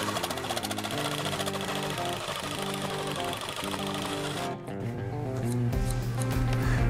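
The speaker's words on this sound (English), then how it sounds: "We're simply gonna use, in this case, a Sawzall, and what we're gonna do is slice some grooves in the fitting" A Sawzall reciprocating saw cuts grooves into a PVC pipe fitting, a fast buzzing, rattling drone that runs continuously up close, briefly dipping before resuming louder.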